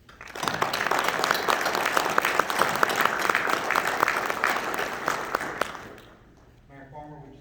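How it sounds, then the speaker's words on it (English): Audience applause for police department employees at an awards ceremony, loud sustained clapping from a crowd lasting about six seconds before fading, followed by a brief moment of voices. "Let's give a round of applause for our employees."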